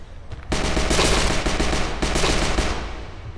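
Rapid gunfire bursts from the VR zombie shooter HordeZ, loud and close, a dense continuous volley that starts abruptly and carries on to the end with no voices.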